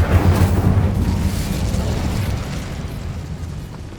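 Incendio fire spell cast in Hogwarts Legacy: a loud, broad fiery burst that erupts at once and rumbles on, slowly fading over a few seconds, with no talk over it.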